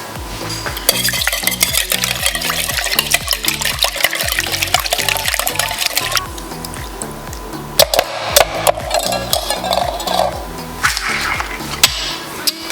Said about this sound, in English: now we're gonna whisk this all together